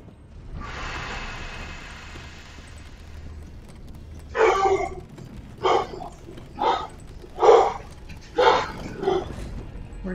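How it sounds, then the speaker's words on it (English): A pet dog barks indoors in a series of six loud, sharp bursts spaced about a second apart, following a few seconds of steady low background hum. "We have a barking dog."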